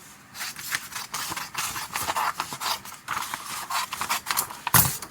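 Scissors cutting through a fabric sleeve, with a quick series of close, crisp snips and rustling cloth, ending in a sharper louder crunch near the end.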